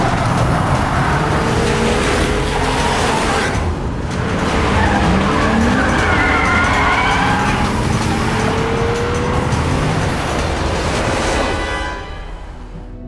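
Cars race in a chase, engines roaring loudly and continuously as tires squeal and skid in long screeching streaks, the noise dense and close before easing slightly at the end.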